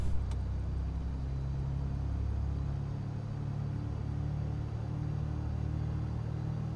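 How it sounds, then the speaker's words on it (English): Propeller aircraft engine in Microsoft Flight Simulator 2020, a steady low droning rumble with a faint tonal hum, heard alone at moderate level without clear surges. "It's very slow when that prop's coming back to the full RPM."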